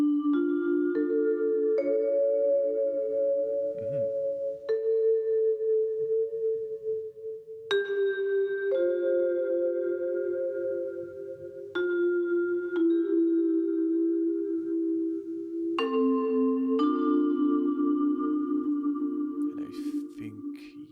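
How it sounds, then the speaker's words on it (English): Sustained vibraphone chords ring out with the motors on, giving a pulsing vibrato shimmer, for a dark doom jazz track. A slow sequence of chord changes every few seconds, each note sustaining warmly with reverb, with no voices. "You will hear a lot of vibraphone with the motors on, and the motors like that vibrato."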